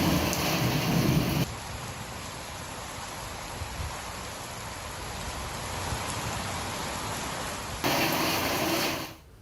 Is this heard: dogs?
no